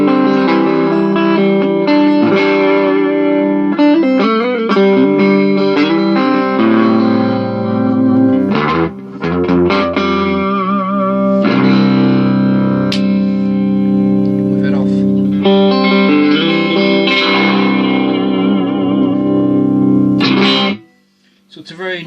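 A Fender Squier Vintage Modified Jazzmaster electric guitar plays sustained, ringing chords and notes through effects, loud and continuous with a brief pause near the end, heard alone with no talking over it.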